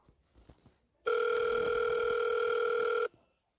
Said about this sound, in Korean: 전화가 오잖아. 안 되겠어. 어서 받자.